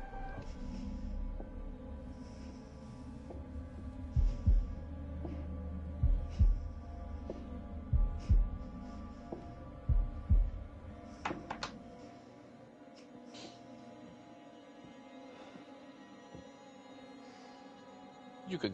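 In the horror game The Devil In Me, a heavy heartbeat thumps in slow, regular pulses over a low ambient hum, then fades as a quieter stretch follows, with faint game noises and occasional talk.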